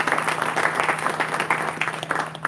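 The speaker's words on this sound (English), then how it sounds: "everybody is clapping for Samantha" An audience at a chamber of commerce breakfast claps for an introduced guest, steady crowded applause with no speech over it.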